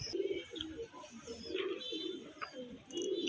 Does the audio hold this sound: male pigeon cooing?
yes